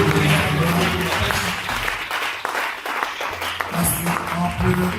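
Applause with cheering fills a church service, dense and steady throughout, with a low hum of voices and music underneath.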